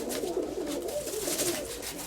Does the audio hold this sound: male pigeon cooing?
yes